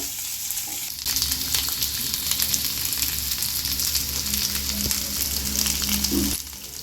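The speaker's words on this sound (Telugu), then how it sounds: "తాలింపులో ఉల్లిపాయలు ఎండుమిరపకాయలు కూడా వేసేసి ఇలా దోరగా వేయించేసుకోవాలి ఈ ముక్కలను" Vegetable pieces frying in oil with onions and dried red chillies in a tempering, a loud continuous sizzle that starts abruptly after a second and holds steady until it drops off near the end, with no talking.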